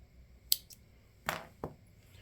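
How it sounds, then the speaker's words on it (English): Scissors make a few quick, crisp snips through a length of material, three short separate cuts, close and quiet in an otherwise still room. "cut a length here"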